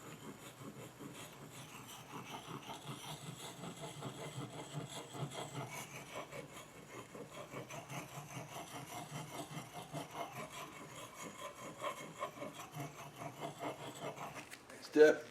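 An axe blade is stroked against a sharpening stone on its second side, giving a quiet, continuous rhythmic rasping and rubbing that carries on for about fifteen seconds with a sharper knock near the end.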